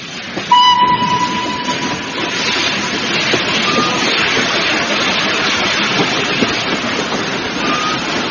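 A train rumbles steadily and loudly throughout, with a brief high whistle-like tone near the start and continuous rolling rail noise.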